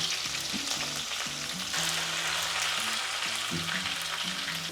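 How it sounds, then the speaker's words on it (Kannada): Green chilies and curry leaves fry in hot oil in a pan with a constant, fairly loud crackling sizzle and a bit of stirring, and nobody speaks. "ಹಸಿಮೆಣಸಿನ್ಕಾಯಿ ಕರಿಬೇವು ಹಾಕ್ಕೊಳ್ತೀನಿ"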